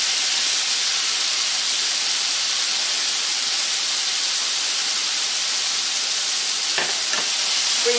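Onion sizzling steadily in a hot pan after a splash of honey soy sauce, a continuous close hiss and crackle with a couple of brief knocks near the end, no talking.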